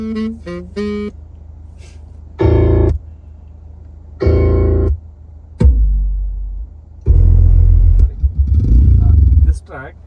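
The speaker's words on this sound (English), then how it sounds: "this is a audio checking track, but it is like you'll be feeling like you're driving a two-wheeler" A four-stroke motorcycle test track plays through the 3-way active audio setup of a Kia Seltos: several loud, separate bursts of engine revving and accelerating, with bright tonal blips at the start.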